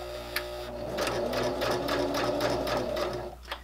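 A sewing machine stitches fabric for a beginner mouse wrist rest, running in a steady, continuous close-up whir with a couple of faint clicks at the start and end.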